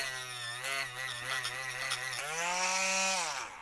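A Dremel rotary tool whines steadily and close up as it trims flashing off the plastic front arms of a Mugen Seiki MBX8R ECO RC car, its pitch dropping once and then climbing again as it bites into the part.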